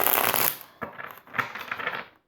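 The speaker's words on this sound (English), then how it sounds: "One more shuffle and then I'm going to cut the deck." A deck of tarot cards being shuffled up close, a burst of riffling followed by several shorter rustling shuffles and soft card slaps, with no talking.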